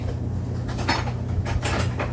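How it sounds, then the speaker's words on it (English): A fork stirs active dry yeast mixture in a bowl, giving light clinks and scrapes against the bowl over a steady low background hum, with no voices. "Now we're going to give that a little stir"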